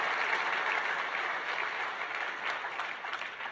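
A church congregation claps steadily and loudly. The dense applause fills the whole stretch, and no voice rises above it.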